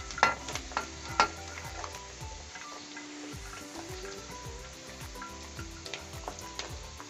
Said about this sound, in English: Now add the French beans.